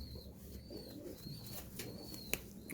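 Pigeon cooing faintly in a quiet indoor spot, soft low coos under light background noise with a couple of brief thin whistles.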